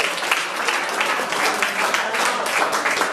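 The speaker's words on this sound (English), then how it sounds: "give a round of applause for that woman who was there for him" Memorial audience at Mirelle's bursts into steady, dense applause, a loud wash of many hands clapping close by for the full stretch without letup.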